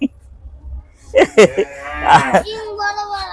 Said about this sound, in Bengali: সাদা মহিষ দেখতে পাচ্ছি, অ্যালবিনো মহিষ